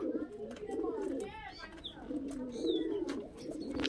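Madras pigeons coo in soft, repeated throaty rolls, close and clear, while a person talks over them at times.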